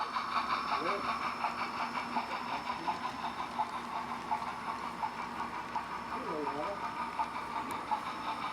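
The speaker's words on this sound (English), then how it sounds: "I wanted to capture that articulated dual steam engine action" An HO scale model articulated dual steam engine runs along the layout with rhythmic chuffing and mechanical clatter, steady and fairly close, with a voice speaking over it.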